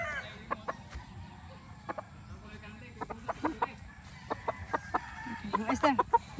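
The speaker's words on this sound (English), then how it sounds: "Hug the chicken." Chickens cluck in short, scattered bursts, with a livelier cluster near the end, over a steady low outdoor hum. People talk in the background throughout.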